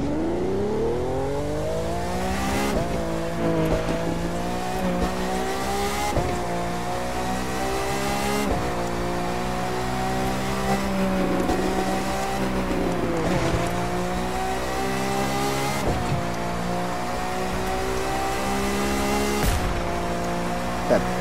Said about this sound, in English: Come on, backfire.